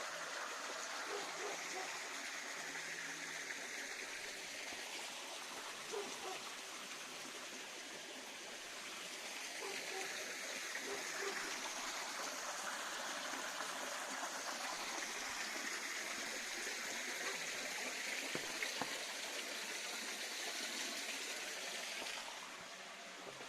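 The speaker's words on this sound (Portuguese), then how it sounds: "Você dormir com esse barulho de água." Water flows steadily into a carp pond beside a rural chalet, a continuous soft rushing and trickling that stays even and moderately faint throughout, with no talking over it.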